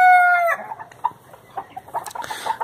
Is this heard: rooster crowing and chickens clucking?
yes